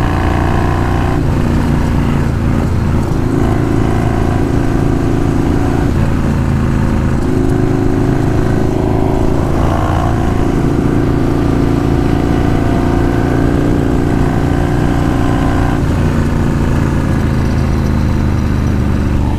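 Exhaust of a Yamaha Warrior 1700 custom motorcycle being ridden at speed, around 90 mph. The engine note is a loud, continuous, throbbing drone that holds steady throughout, with no talk over it.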